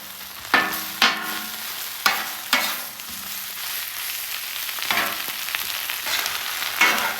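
Baby spinach sautés on a flat griddle with a soft, steady sizzle, broken by several sharp spatula scrapes and tosses at irregular intervals.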